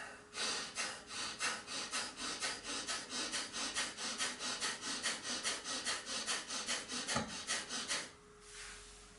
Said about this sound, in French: Kapalabhati, je relâche ma sangle abdominale, ce qui déclenche une inspire. Je contracte ma sangle abdominale.